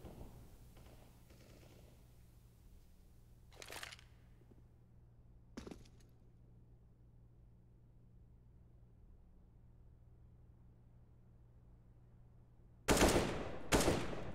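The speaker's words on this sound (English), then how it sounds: "Taps from Almond trying to take out somebody" Gunfire in Counter-Strike on the Mirage map during a match: a few separate sharp tapped shots, a pair near the start and a louder close pair near the end, over a quiet steady background hum.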